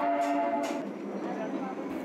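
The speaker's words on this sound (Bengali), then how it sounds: "কি আর করা যাবে, টয় ট্রেনের জার্নি শুরু হলো।" The Darjeeling toy train sets off, a close mechanical rumble and rattle of the carriage with a brief tonal horn-like note at the start, lasting only a moment.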